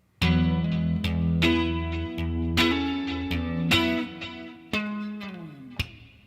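Acoustic guitar in a song, picked notes with a slide and a couple of percussive time-keeping slaps on the body, sharp attacks over ringing strings, close and solo without talk.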